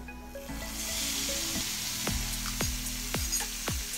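Hot chilli tempering poured into a pot of duck curry, a loud continuous sizzle with a few bubbling pops and low clinks, close up and without talk.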